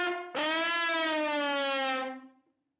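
A trombone plays a fast slide glissando, one sustained rich brassy tone starting abruptly and bending smoothly downward, loud and alone, then fading out.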